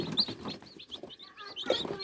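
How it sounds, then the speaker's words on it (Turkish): A crested chicken clucks close by with short, bright, repeated chirpy calls over roughly two seconds, against quiet rustling. "Ama bu çok tatlı, çok çok tatlı bir tavuk arkadaşlar."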